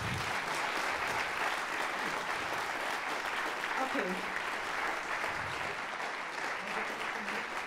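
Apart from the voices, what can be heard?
audience applause at the competition final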